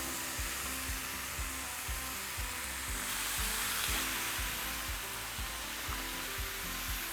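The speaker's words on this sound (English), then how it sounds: "Okay, now that our meat is nicely marinated, all we're gonna do is grill it up" Marinated Asian-style short ribs sizzle steadily on a hot grill, a loud, continuous hiss with a low rhythmic thumping underneath, no talking.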